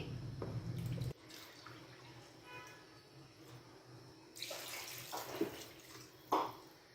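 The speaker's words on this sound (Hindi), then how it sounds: "अच्छी तरह से मसाले की भुनाई करने के बाद अब हम यहाँ पर ऐड करेंगे पानी" Water is poured into a cooking pot while chicken pulao is made, a faint splashing pour at the start, followed by quiet kitchen sounds and later bursts of running water.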